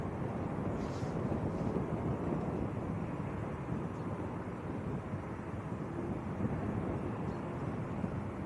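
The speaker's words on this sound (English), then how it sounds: "That was actually a WestJet that's just gone over the field." A WestJet airliner passes over the field at Leeds Bradford Airport, a steady broadband jet roar with wind noise at the microphone, constant and unbroken with no voices.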